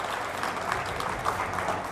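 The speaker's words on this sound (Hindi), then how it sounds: "तालियों के साथ इनका स्वागत कीजिए।" Studio audience on a Hindi TV debate show claps to welcome a guest, a brief steady burst of applause with a few sharper claps standing out.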